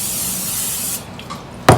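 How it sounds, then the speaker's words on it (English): Cooking spray hisses steadily from an aerosol can onto a pan for about a second while a cookie-dough fruit pizza crust is being prepared, followed by a couple of faint handling sounds and a sharper clunk. "So first I'm gonna spray this so it doesn't stick."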